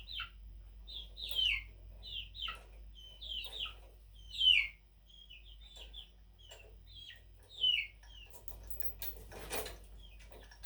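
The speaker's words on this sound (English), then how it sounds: "I did not hire chickens to be garage chickens. You're my future egg layers." Chickens in a garage cluck and chirp in short, scattered calls over about ten seconds, fairly faint against a low hum, with a brief rustle near the end.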